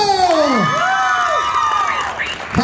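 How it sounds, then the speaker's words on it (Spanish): A lively crowd cheers at a second-anniversary show in El Salvador. Loud, high shouts and whoops rise and fall over a constant roar of voices, with some clapping mixed in underneath. "¡Aplauso!"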